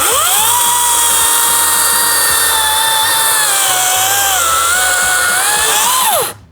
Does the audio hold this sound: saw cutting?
yes